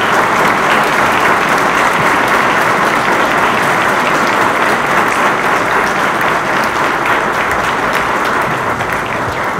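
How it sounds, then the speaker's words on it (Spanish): A gender-themed conference audience gives the minister dense, loud, sustained applause that holds steady for nearly ten seconds. "Y si me ayudan a brindarle un fuerte aplauso a la señora ministra."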